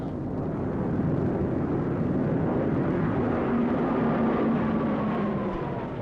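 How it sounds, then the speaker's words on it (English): Japanese World War II warplanes drone overhead in a loud, continuous engine roar that holds steady for several seconds, with a faint rising whine partway through and no speech. "These are Japanese planes."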